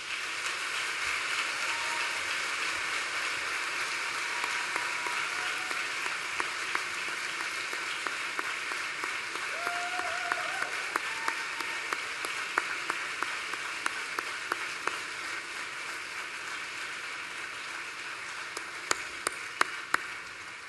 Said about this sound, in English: I invite you one last time to look in that direction and applaud them for their support